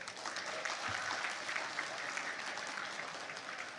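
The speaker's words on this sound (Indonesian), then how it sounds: "Untuk kali ini kita beri tepuk tangan untuk tim kebendaharaan kita." An audience claps steadily throughout for a treasury team at a political party event, dense even applause with no break, heard from within the crowd.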